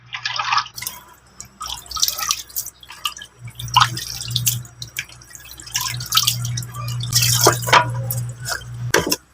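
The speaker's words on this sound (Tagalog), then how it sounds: "hugasan po natin yung giniling" Raw ground meat being rinsed in a kitchen sink, with dripping and splashing water in close, irregular bursts over a steady low hum, no talk.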